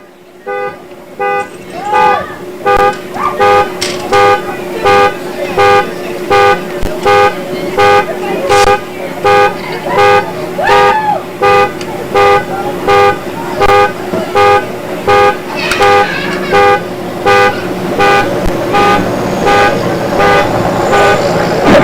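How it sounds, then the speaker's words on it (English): A car alarm sounds alongside its horn in a public power safety demonstration, loud repeated honks pulsing in a steady, even rhythm for a long stretch, close and dominant with a brief voice near the start. "Sound your alarm."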